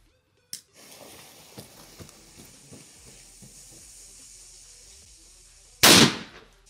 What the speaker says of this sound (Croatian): pukao je sad Veliki Bang